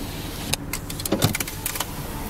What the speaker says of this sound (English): Let's do some windows. One, and up, rear and up,